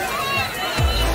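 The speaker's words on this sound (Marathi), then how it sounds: "इथं भरपूर गर्दी दिसते आहे" Crowd at the Malegaon yatra fair near the temple: a murmuring hubbub of many people with footsteps and movement, while a nearby voice talks over the babble.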